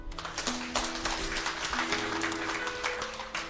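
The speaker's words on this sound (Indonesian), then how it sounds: "Beri tepuk tangan." A church congregation applauds during a sermon: a dense burst of clapping from many hands with soft sustained keyboard tones underneath, lasting a few seconds.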